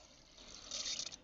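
A small dose of liquid plant-feeding preparation, drawn up in a syringe, is squirted into water, a soft brief gush and splash that rises near the end, close and quiet.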